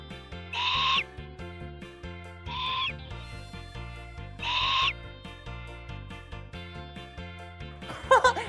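A squawking roar imitating a pteranodon, voiced by a person, comes in three loud bursts over steady cheerful background music, followed by a brief bright flourish at the end.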